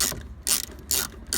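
Close ratchet clicking in short bursts as a wrench turns the 10mm bolts on a Mk4 Ford Mondeo rear shock absorber, two or three quick runs of pawl clicks.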